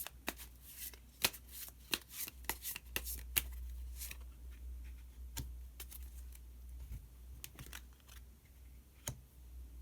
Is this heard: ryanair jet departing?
no